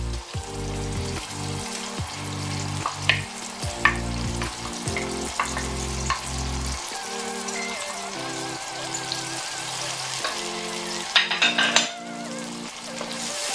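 Canned tomato frying in a pot for Ghanaian okra stew gives a steady, close sizzle with bursts of stirring, heard alone under loud tonal background music.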